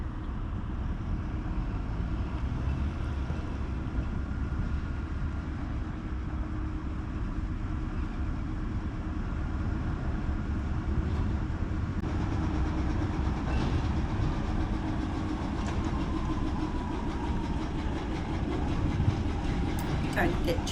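A train on the west coast of Tasmania rumbles steadily nearby with low mechanical drone and rail noise, faint squeals rising near the end as it draws closer.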